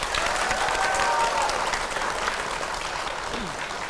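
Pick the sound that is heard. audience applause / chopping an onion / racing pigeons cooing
audience applause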